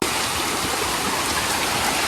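Heavy monsoon rain pours down around a village hut, a dense, loud, unbroken roar of falling water with no voices.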